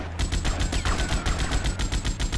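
Rapid automatic gunfire from the video game GTA Vice City Definitive Edition, a fast steady string of loud, close shots with no pauses and no talking.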